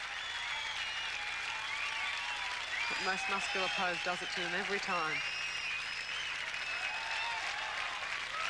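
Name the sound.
crowd applauding at bodybuilding championship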